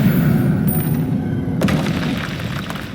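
A spell impact in Hogwarts Legacy, a fantasy wizarding game, comes as a deep boom under a low, constant rumble, with a sharper burst partway through, all fairly loud and close.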